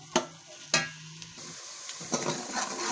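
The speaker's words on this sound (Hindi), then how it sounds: "ये बारीक बारीक चॉप कर देना। इनको हम फ्राई करेंगे।" Chopped onions frying in a pan give a steady near sizzle, with a couple of sharp stir or utensil knocks early on and the sizzle swelling toward the end.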